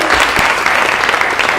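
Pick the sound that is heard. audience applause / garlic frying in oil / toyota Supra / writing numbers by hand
audience applause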